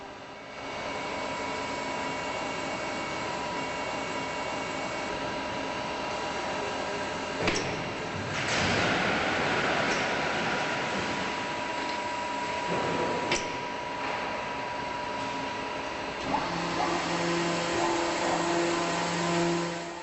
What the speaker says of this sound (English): The units automatically position themselves horizontally and vertically, so that they can inject foam inside the panels in each of the 5 chambers